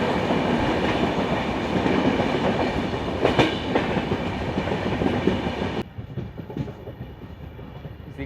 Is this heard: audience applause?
no